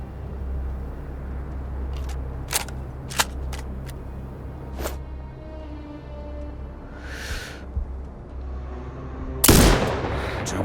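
A sniper rifle shot in Sniper Ghost Warrior Contracts 2, in a desert training setting: one sharp, loud crack near the end, after quieter clicks and a soft whoosh over a low ambient rumble.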